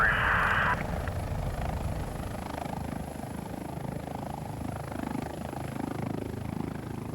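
A LifeFlight emergency medical helicopter in flight, its rotor and engine noise a steady, loud drone throughout with a brief higher tone at the start.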